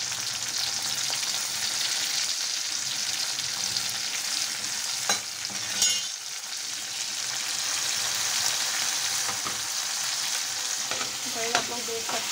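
Ingredients for paneer Maggi sizzle steadily in an oiled frying pan, a dense continuous crackle with a few louder pops and spoon clinks near the middle and end, close by and with no voices.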